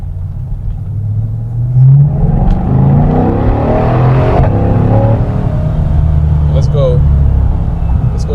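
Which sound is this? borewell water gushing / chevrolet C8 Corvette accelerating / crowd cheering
chevrolet C8 Corvette accelerating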